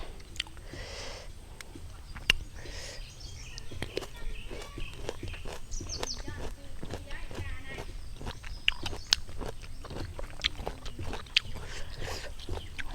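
Close crunchy bites and chewing of pickled mango outdoors in a rubber plantation, sharp clicky crunches scattered irregularly over a quiet background with occasional birds.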